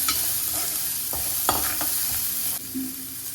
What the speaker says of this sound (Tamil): அடுத்தது கருவேப்பிலை இந்த ரெண்டையும் நல்லா வதக்கிக்கலாம்